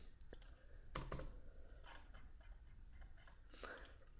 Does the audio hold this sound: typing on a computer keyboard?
yes